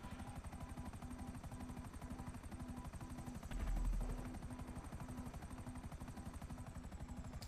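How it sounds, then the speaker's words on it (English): A helicopter in Grand Theft Auto V Online thrums with fast, steady rotor chopping throughout, loud and close, swelling briefly midway with a deeper rumble. "I can outrun the helicopter"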